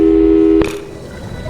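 Steady telephone busy tone in the Portal 2 video game, loud and sustained, then cut off abruptly by a short click and a quieter background.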